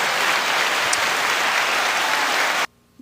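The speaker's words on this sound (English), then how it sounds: "How about a round of applause for Braden?" Steady applause from an audience for the winner of a tournament, a dense, even wash of clapping that cuts off abruptly, leaving near silence.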